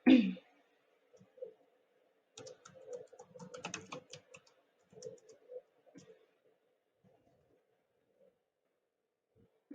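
Keys clack as a new password is typed on a computer keyboard, several short bursts of tapping at close range with pauses between them, fairly quiet and with no talk.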